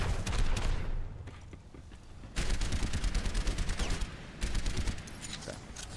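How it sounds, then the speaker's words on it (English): The Soldier hero fires in Overwatch on the Kings Row map, sustained bursts of rapid automatic gunfire coming in loud clusters with short gaps, heard alone without talk. "I want Soldier up here too, just standing fire, take cover"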